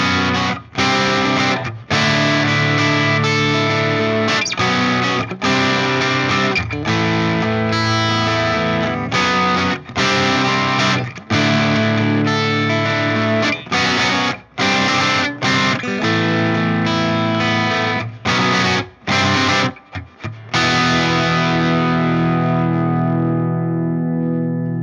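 Electric guitar through a Mesa/Boogie Road King Series 2 amp on channel 2 in breathe mode, with two EL34 tubes and tube rectification, playing dense, loud distorted riffs with brief gaps, ending on a ringing chord that fades out.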